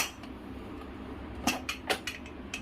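A few sharp metallic clinks and clanks of a cooled pressure cooker lid being handled and opened after cooking chickpeas, close by, in an otherwise quiet room.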